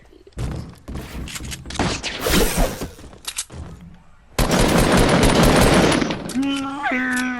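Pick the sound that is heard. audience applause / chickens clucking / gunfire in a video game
gunfire in a video game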